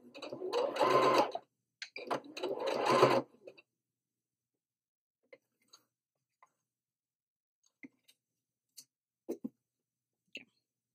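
A sewing machine topstitches fabric for reusable makeup wipes, running in two loud close bursts of about one and a half seconds each, then falling quiet apart from scattered soft clicks and handling sounds.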